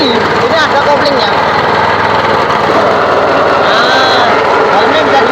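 A pellet-making machine with a clutch runs its engine at a loud, constant drone with a buzzy high whine that holds steady from start to finish, while someone talks over it.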